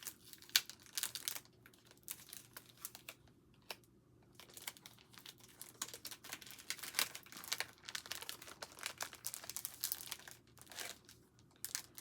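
A reusable plastic shopping bag is opened carefully, giving irregular close crinkles and rustles that come in small bursts over quiet background hum, with no talking.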